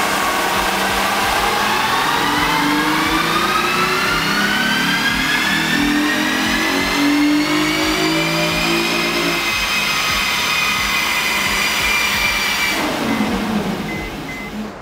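A Honda engine revs hard on a dyno, rising in a long steady climb as VTEC kicks in, then drops off near the end. It is loud and close, with no talk.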